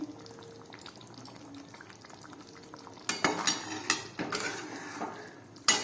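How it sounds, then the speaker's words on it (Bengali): Navratan curry stirred in a pan, first a soft simmer, then a run of loud close scraping and clinking strokes of a spoon against metal, with a sharp clatter at the end. "দিয়ে এগুলো সব মিশিয়ে ভালো করে আমি নাড়িয়ে নিচ্ছি"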